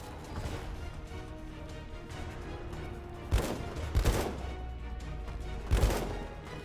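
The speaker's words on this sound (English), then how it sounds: "Throw a grenade." Grenade blasts in the video game Left Alive: three sharp, loud explosions spaced about a second apart over a steady low rumble of game ambience, no talking.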